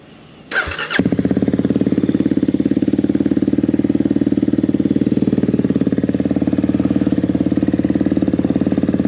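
A Kawasaki KLX300R dirt bike engine cranks briefly, then catches and settles into a loud, steady, close idle that runs to the end with no talk.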